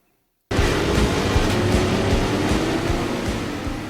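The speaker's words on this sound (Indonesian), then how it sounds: "mesin meraung dan mobil-mobil melesat liar menembus lalu lintas berlawanan" Modified cars, including a Supra, roar through opposing traffic in a street race, with a loud sustained engine roar that cuts in abruptly and holds steady before easing slightly.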